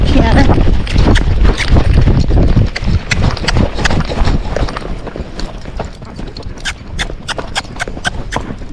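A Tennessee Walking Horse moving at a half canter, its hoofbeats loud and close in a steady rolling rhythm, with a trainer's voice heard over them.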